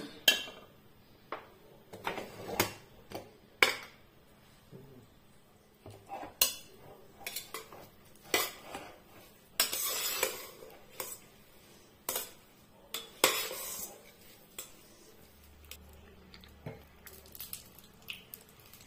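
A series of clanks, clicks and rattles as the lid of a pressure cooker of varagu rice pongal is opened up close after three whistles, with irregular knocks and a brief low hiss near the end.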